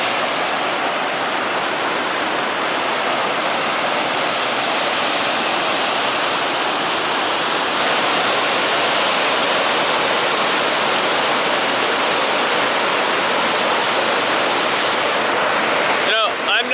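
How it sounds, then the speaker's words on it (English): A cold river at Oregon Caves National Monument rushes through rapids, forming a small standing wave; loud, continuous broadband roar close by, steady for the whole stretch with no one talking. "it almost looks like a little river wave right here"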